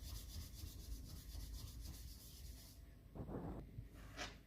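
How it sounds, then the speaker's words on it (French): Faint, steady scrubbing of a cooktop with vinegar, continuous rubbing strokes followed by a few short, separate scrapes near the end, heard close with no talking. "Et je frotte, et je frotte, et je frotte."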